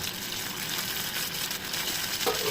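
Tomato frying in hot oil with turmeric and salt for a traditional bam fish curry, a steady close sizzle throughout with a faint stir or clink near the end.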